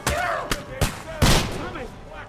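A few separate loud gunshots in a video game firefight, spaced irregularly over a couple of seconds, each with a short ringing tail, over faint background sound.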